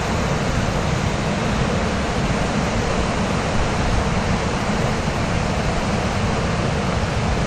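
A turbulent mountain river rushes along the washed-out road from Tekeli toward Burkhan Bulak, too strong to cross even by quad bike. It makes a loud, steady, close broadband roar with no voices.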